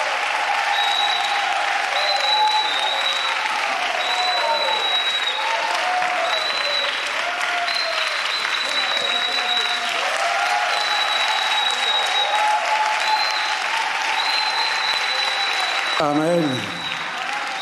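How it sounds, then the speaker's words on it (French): Sustained congregational applause in a church welcomes the pastor, steady dense clapping running throughout with a voice singing and speaking over it before it fades near the end. "sous nos acclamations, nous allons accueillir le pasteur Crésus"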